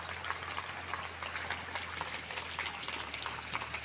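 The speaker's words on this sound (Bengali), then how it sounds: "ভীষণ জোরে বৃষ্টি এসেছে বাবারে।" Heavy rain pours down steadily in a broad, dense hiss that stays loud and unbroken throughout, with a low steady hum beneath and no voices.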